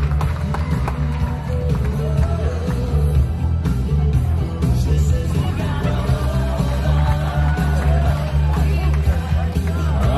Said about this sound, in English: let's get another round of applause for Evan and Abby